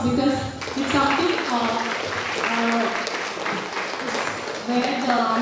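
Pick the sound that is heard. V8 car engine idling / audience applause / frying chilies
audience applause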